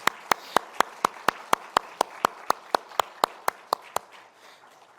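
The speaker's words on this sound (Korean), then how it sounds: "우리 함께 박수로 격려해 드리겠습니다" About sixteen sharp, evenly spaced claps in a steady quick rhythm at a church dawn prayer service, crisp and close, stopping abruptly before a quiet tail.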